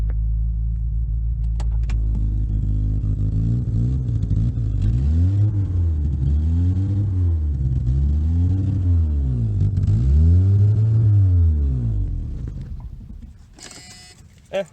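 A 1982 Plymouth Reliant engine idles with a rough, rhythmically surging rumble, rising and falling in repeated swells before winding down and stalling, followed by a brief clunk.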